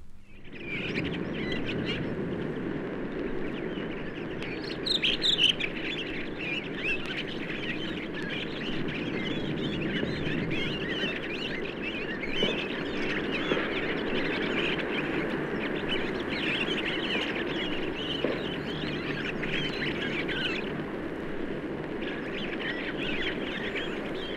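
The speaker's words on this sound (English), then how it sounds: "redwings often gather in the woods before their departure to Scandinavia. Here they indulge in a gay, twittering kind of sub-song" A flock of redwings in a British wood keeps up a soft, continuous twittering sub-song, many small chirps overlapping at moderate distance, with occasional fuller phrases and no talking.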